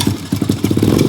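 1983 Honda ATC 70 three-wheeler with a CDI conversion, its small engine revved briefly, a close, loud, rapid pulsing putter.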